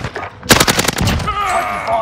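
Rapid automatic gunfire in Call of Duty Warzone, a close burst of about eight sharp cracks in quick succession, followed by a softer game sound over a voice talking.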